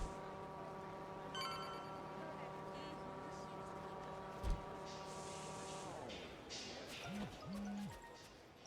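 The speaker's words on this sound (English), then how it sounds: "we get a phone call as we're standing here" A phone rings with a steady electronic tone in the Like a Dragon: Infinite Wealth video game, holding for several seconds before cutting off beneath game ambience and a few brief tones.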